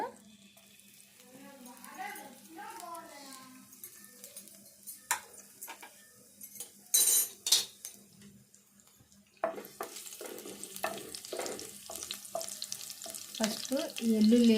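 Garlic hits hot oil partway through, a steady crackling sizzle rising after a quieter stretch where a voice talks, with a few clinks of a pan near the start.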